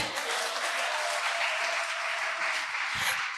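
A church congregation applauds its brothers, sustained broadband clapping and cheering filling the whole stretch at steady loudness with no pause.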